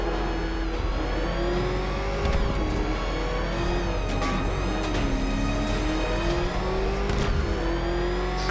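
A car engine revs and roars steadily while driving in Batman Arkham Knight, a continuous loud whine with shifting pitch and rising acceleration throughout.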